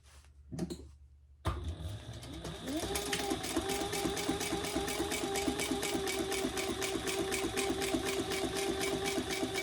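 A sewing machine stitches a decorative row on a fabric cover for a composition notebook. After a couple of short starts it runs in a steady, rapid, even chatter close by, continuing without pause.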